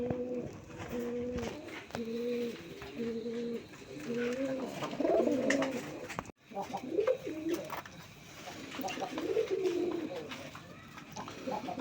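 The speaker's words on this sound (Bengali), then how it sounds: "এখানে এক দুটা কালদম কবুতর আছে, ইন্ডিয়ান কালদম কবুতর দেখেন" Indian Kaldom pigeons coo repeatedly in a steady, rhythmic series of low throaty calls, close by, with more cooing and background noise continuing throughout.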